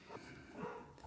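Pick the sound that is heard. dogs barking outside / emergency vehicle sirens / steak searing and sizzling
dogs barking outside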